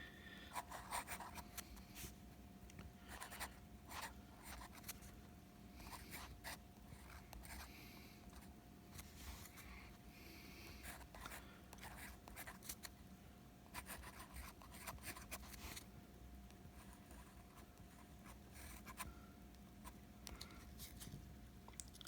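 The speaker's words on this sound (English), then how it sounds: "as you can probably hear, the pen writes nice and smooth" A Montblanc Meisterstuck 149 fountain pen nib moving across paper, making a soft, steady scratching with brief strokes and pauses, quiet and close against a faint hum.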